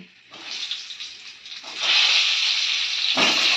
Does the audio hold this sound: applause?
no